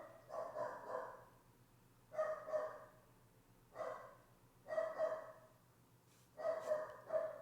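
Cammy, a pet dog, barks in about five separate short bursts of two or three yips each, spaced a second or so apart, moderately close and fairly soft.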